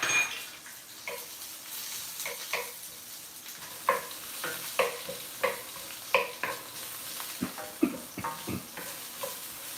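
Half an onion cut into half-moon slices sizzles softly in a hot pan while a spoon or spatula scrapes and stirs it in regular strokes, close and without speech.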